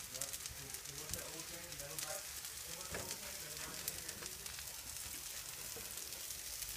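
Butternut squash fritters fry in a pan with a steady, close sizzle and crackle that runs unbroken throughout, dotted with small pops and light stirring sounds.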